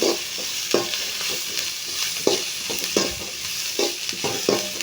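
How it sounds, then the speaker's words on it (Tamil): Green chillies sautéing in a pan of hot oil, an even sizzle punctuated by regular, distinct spatula scrapes and taps roughly every half second. "பச்சை மிளகா போட்டுக்கலாம் பச்சை மிளகா நல்லா வதங்கட்டும்"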